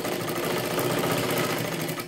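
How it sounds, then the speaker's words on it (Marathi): A sewing machine stitches a blouse side seam in one short, steady run, a close, even mechanical hum with a fast rhythmic needle beat. "कडेला एक शिलाई मारून घ्यायची आहे"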